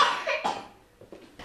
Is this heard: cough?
yes